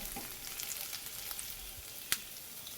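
Green chilli, ginger and garlic paste sautés in a pan with a soft, continuous close sizzle and faint stirring scrapes, plus one sharp utensil tap near the end; no voices.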